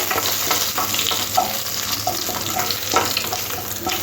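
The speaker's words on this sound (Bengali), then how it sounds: "ফোড়নের জন্য দুটো শুকনো লঙ্কা তেজপাতা একটু হালকা করে ভেজে নিতে হবে ফোড়নটা" Dried red chillies and bay leaves fry in oil for tempering, making a dense continuous crackling sizzle with occasional stirring taps, close and fairly loud.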